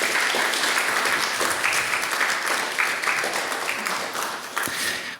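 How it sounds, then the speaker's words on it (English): Close, lively applause from a seated audience at a clinical trial results event, brisk clapping with distinct individual claps that holds for about five seconds and then tapers off. "I think Helen in particular deserves a round of applause"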